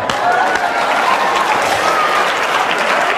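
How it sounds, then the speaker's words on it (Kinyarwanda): Steady, dense applause from a live comedy audience, close and loud, holding at an even level throughout with no clear breaks. "Ariko mwampaye amashyi mw'abantu"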